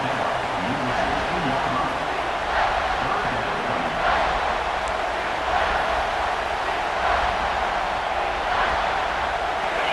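A stadium crowd cheers in a college football video game, a steady roar of many voices that rises and falls in waves beneath an announcer talking throughout.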